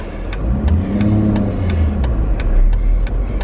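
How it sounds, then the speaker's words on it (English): A Jeep Wrangler JK drives along steadily, its mid-pitched engine droning and rising slightly as it accelerates, with road rumble and faint rattles from the dash throughout and no talking. "we are actually legitimately driving"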